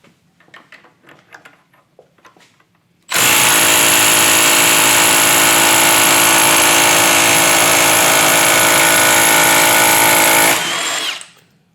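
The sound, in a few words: Milwaukee M12 Fuel 3/8 inch stubby impact wrench breaking bolt loose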